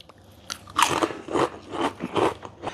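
Someone bites into a crispy potato snack and chews it close to the microphone, making about five sharp crunches in a fairly even rhythm with short quiet gaps between them.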